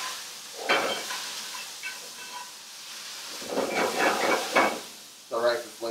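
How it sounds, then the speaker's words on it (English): Meat for pepper steak sizzles over high heat in a cast-iron pan, a low steady hiss with bursts of louder scraping and clattering as a spoon stirs it, close by. "So, stir it around."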